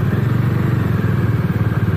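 A motorcycle engine, likely a KTM or Dominar 400, runs steadily with a loud, close, throbbing low rumble and a slight mechanical clatter throughout.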